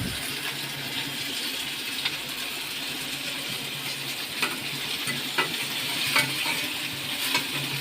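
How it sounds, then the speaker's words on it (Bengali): Chilli and onion fry in a pan alongside fish, giving a steady close sizzle with occasional stirring scrapes and taps, no talking. "এখানে মাছটি ভাজা হতে হতে এখানে মরিচ পেঁয়াজ এটা আমরা ভুনা করতেছি"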